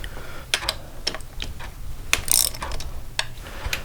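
A socket wrench works 13mm handlebar bolts loose on a BMW RS motorcycle during a Wunderlich GS handlebar kit swap, giving close, irregular metallic ratcheting clicks and clinks in short bursts.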